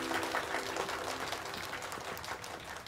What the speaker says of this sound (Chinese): 掌声祝贺他！